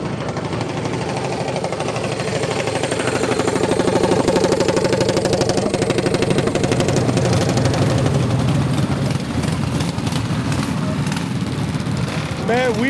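A minibike engine at a drag race event runs with a steady, buzzing mid-pitched drone that swells slightly and then holds, close and loud. A voice is heard near the end.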